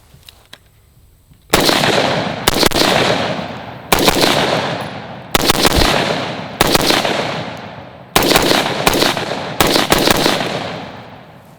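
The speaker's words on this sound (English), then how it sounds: "Let's shoot it. Let's hear it." A Type-A 10.5 Pro rifle, a short-barrel variant with an adjustable direct-impingement system, fires about ten loud sharp shots at irregular intervals. Some come as quick doubles, and each shot rings out with a decaying echo, with no talking.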